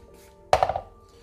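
A food processor chops small pieces of toasted bread in a single brief, loud whirring burst that quickly fades, alone against a faint background hum.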